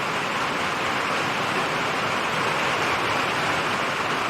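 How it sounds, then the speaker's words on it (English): Steady, dense hiss of rain falling outdoors, a continuous even wash of noise with no breaks or voices over it. "It's raining outside."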